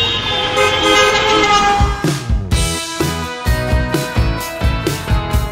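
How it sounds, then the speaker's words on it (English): Car horns honk over and over in heavy city traffic, a dense overlapping chorus of short and sustained toots from many vehicles, loud and close with engine rumble underneath. "the difficult weather conditions along with the endless honking makes it an extremely annoying situation"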